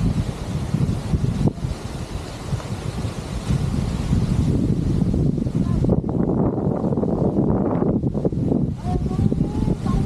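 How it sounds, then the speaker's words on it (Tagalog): Strong, steady wind on a farm buffeting the microphone with a low rushing roar, joined by rustling gusts that swell and ease across the whole stretch. "Hangin."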